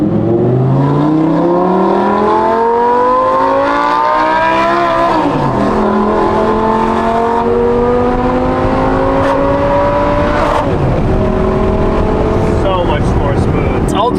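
A first-generation Audi R8 V10 on stock headers with a Valvetronic Designs exhaust revs hard and loud, pitch climbing and falling through several rising sweeps with a howling, race-car tone echoing off nearby buildings.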